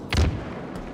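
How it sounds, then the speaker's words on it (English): One short, heavy thump of a grenade going off during a Halo match, punchy and fairly close, then quickly fading. "Cross map nade from Lucid gets it in"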